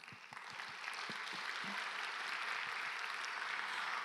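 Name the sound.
audience applause at Nobel Prize Dialogue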